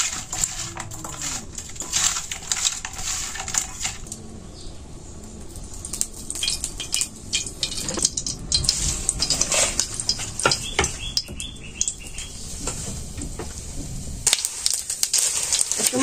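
Cumin seeds and fish frying in a pan, with a steady close sizzle and the repeated scrape and clink of a utensil stirring against the pan.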